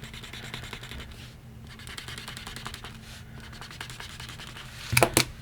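Ballpoint pen scratching across paper in a continuous low, papery rub, quiet and close, with a brief louder scribble near the end; no talking.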